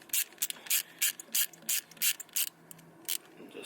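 Quick bursts of ratchet clicking as a bolt is tightened on a built turbo Honda Civic, about a dozen short, crisp strokes in an uneven rhythm, close and fairly quiet.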